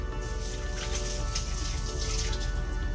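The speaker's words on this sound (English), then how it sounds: "I'm going to rinse my hands first" Tap water runs steadily as hands are rinsed under it in a kitchen sink while burgers are being prepared, a continuous close splashing flow with no talk.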